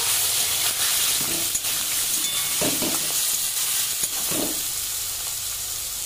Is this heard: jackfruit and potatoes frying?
yes